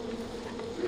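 Bees buzz in the Far Cry 4 game world, a steady, droning hum that is close and continuous for a brief moment with no voices.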